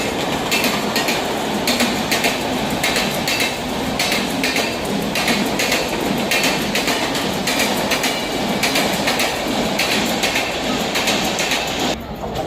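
An air-conditioned Mumbai local train rumbles past close by in Dadar, a steady loud roar of wheels and carriages with a rhythmic clatter running the whole way through.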